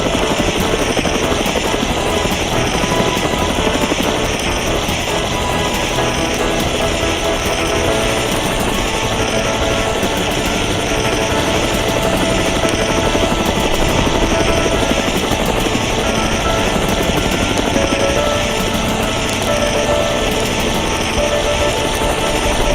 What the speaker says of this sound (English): The helicopter is the best tool when our fire brigade deals with forest fires.